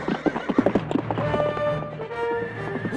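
A borrowed horse's hooves clip-clop in quick rhythmic beats, followed by a long, wavering neigh, close and loud with no talk.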